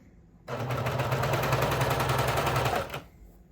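A cover stitch machine hemming runs fast and steady for about two and a half seconds, a dense rapid rattle of stitching that stops abruptly.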